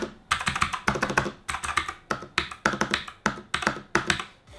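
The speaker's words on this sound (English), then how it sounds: "And for comparison's sake, here are the real zinc gold keycaps versus these ones." Mechanical keyboard fitted with zinc and silver-coated PBT plastic keycaps being typed on, giving bursts of close, crisp clacking keystrokes in quick rhythmic runs separated by short pauses, with no talking.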